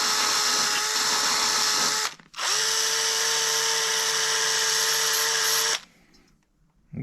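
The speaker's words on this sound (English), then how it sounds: "A side whiz wheel here. We're just gonna go around, clean all this rust off of this" A side cut-off wheel whines at high speed while grinding rust off an old Craftsman snow blower, two long steady bursts separated by a brief pause, loud and close, with no talking.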